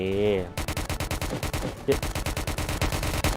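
Rapid gunfire in the Roblox game Prison Life, a dense stream of close, sharp shots repeating quickly over a few seconds, with a voice talking at the start.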